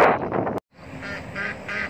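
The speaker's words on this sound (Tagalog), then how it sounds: "Tapos meron dito mga pato tsaka itik." Farm ducks, both pato and native itik, at a farmstead in Batangas, Philippines, give three or four nasal quacks in a steady rhythm at moderate distance, following a short burst of nearby voices.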